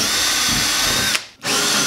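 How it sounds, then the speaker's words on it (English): Power drill boring bolt holes to mount a MaltMuncher grain mill, a loud, steady close whine that cuts out briefly, then starts right up again. "what I need to do now is get two holes drilled in either side to get the bolts through to"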